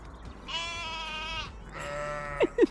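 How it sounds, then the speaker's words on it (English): Young lambs bleat twice in a field near the Avebury megaliths, each a sustained wavering cry close by, followed by a couple of short bumps. "these sweet little lambs"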